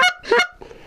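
Geese on a snowy public-land hunt, a couple of loud, close honks in quick succession followed by a fainter, muffled call.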